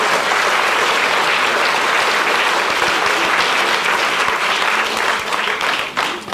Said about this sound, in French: Je pense qu'on peut l'applaudir quand même pour ce texte.